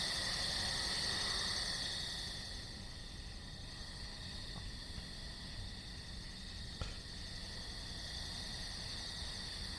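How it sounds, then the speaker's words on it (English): Crickets and other insects chirping outdoors at night, a dense, steady high trill layered over low background hiss, continuous and moderately faint, with no voices. "You hear the crickets and all the other insects out there?"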